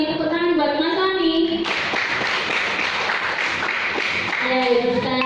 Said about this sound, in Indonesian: Tepuk tangan buat Mas Soni.